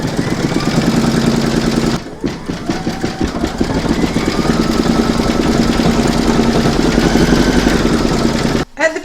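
An embroidery machine runs a satin stitch around a mandala notebook cover design, making a loud, rapid mechanical chatter with steady rhythmic needle strikes that pause briefly twice.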